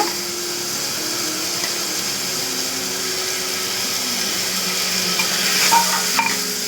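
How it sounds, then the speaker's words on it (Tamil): Tomatoes and onions sauté in a clay pot for fish curry, giving a steady close sizzle with occasional stirring scrapes and a constant hissing hum, no talking. "தக்காளியும் நல்லா வதங்கட்டும்."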